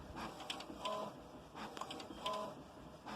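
An HP large format printer shuttles its print head back and forth, giving a soft repeating whir with small clicks and brief tonal beeps at each pass, faint and steady without speech.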